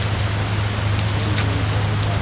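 Steady rain pours onto hard surfaces on a rainy day, a dense, even hiss of drops that stays loud and unbroken throughout with no voices.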